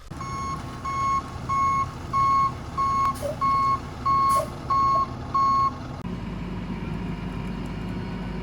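Tow truck reversing with a loud, evenly spaced series of about nine beeps over engine rumble; the beeping stops and the engine idles on.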